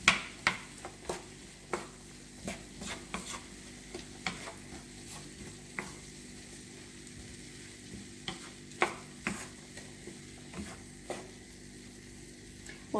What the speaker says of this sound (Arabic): صافي نخلط كل شيء.